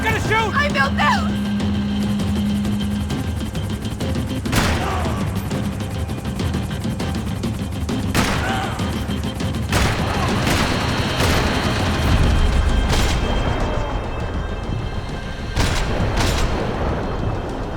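Gunfire from a Max Payne 3 chase, a few sharp shots scattered through a dense mix of engine roar, crashes and game effects while voices shout over it.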